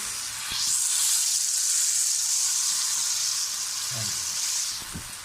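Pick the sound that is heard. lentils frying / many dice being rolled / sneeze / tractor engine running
lentils frying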